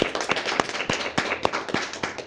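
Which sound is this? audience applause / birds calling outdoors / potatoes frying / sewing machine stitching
audience applause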